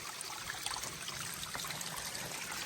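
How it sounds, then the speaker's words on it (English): Stream water trickles off a rock ledge into a 3-liter bag, a steady broadband pour and splash filling the clip at a close, even level with no talk. "there's a nice spot right there because it drops off of that ledge. Fill the bag up real nice."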